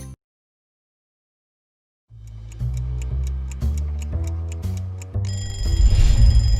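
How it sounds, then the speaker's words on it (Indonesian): A phone alarm starts after about two seconds of silence, a loud, close melodic ringtone of repeating tonal beeps that steps through a pattern and then swells into a fuller, brighter sustained phrase. "Setiap pagi mungkin kita bangun karena dengar suara alarm di HP kita"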